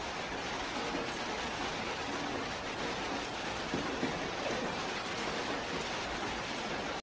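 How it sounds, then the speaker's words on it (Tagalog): Heavy rain pours steadily outdoors, a dense, even hiss with no breaks that holds at a constant level. "Ang lakas ng ulan dito sa amin."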